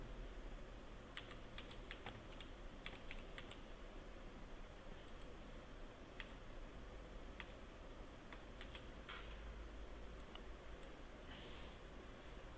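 Steady typing on a computer keyboard, light irregular key clicks in short runs over a faint constant hum, close and quiet.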